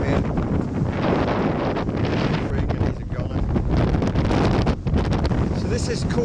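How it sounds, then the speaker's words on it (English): Choppy sea and gusting wind buffet the Cool Runnings, a centre-cockpit sailing yacht in the Solent near Chichester Harbour, a steady loud roar of wind on the microphone with water washing against the hull throughout. "These choppy seas we've got here"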